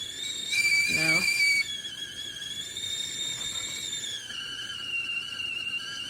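A GGC stovetop tea kettle whistles with a steady, high, piercing tone that wavers slightly in pitch and runs for several seconds, with a brief squeal and louder swell near the start.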